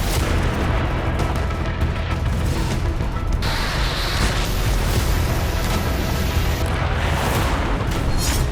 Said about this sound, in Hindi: हमले में टैंक में जोरदार धमाका हुआ।